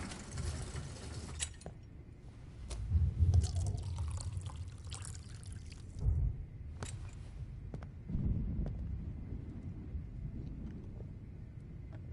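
Water pours into a glass during a Life is Strange game scene, a low, steady liquid rush with a few louder swells over a murky background rumble.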